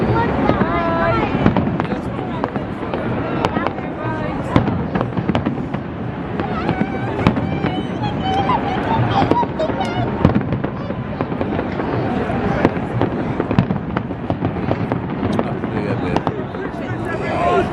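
New Year fireworks over the Newcastle upon Tyne quayside in 2020, a dense barrage of loud booms and crackling bursts with a crowd talking and cheering nearby.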